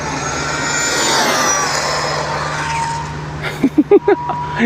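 An ARRMA Felony 8S RC car makes a steady, loud high-pitched whine as it races at speed. A few short, punchy bursts come near the end.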